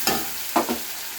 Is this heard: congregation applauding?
no